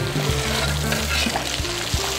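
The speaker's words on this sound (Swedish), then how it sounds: "Och då steker ju så fint här så man vill inte riktigt störa dem heller." Venison mince patties (Wallenberger-style) frying in oil in a pan, a steady close sizzle and crackle with occasional spatters and soft utensil clinks.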